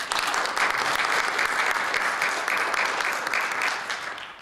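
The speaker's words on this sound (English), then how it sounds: "Hannah Pratt, let's give her a round of applause." An audience at a film screening and panel in the Anchorage library breaks into loud, dense applause that holds steady for a few seconds before fading at the end.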